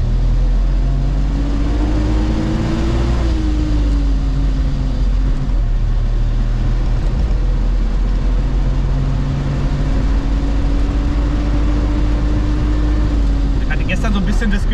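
Wartburg 311 engine pulling in second gear, a steady loud droning hum with rising and falling pitch as it accelerates and settles, heard from inside the car.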